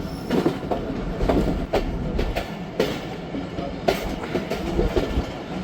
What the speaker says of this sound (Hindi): गुजरांवाला रेलवे स्टेशन अराइवल हो रहा है ट्रेन का